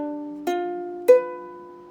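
Ukulele strings plucked one at a time through a chord, three separate notes that each ring on clearly and cleanly, close and moderately loud with no talking.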